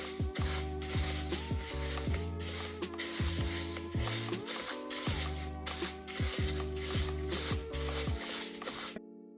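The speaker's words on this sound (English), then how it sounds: "I'm gonna go ahead and stir that base into that sugar" Gel base being stirred into granulated sugar for a homemade sugar scrub makes a steady gritty scraping and rubbing, repeating in strokes over a continuous tonal background.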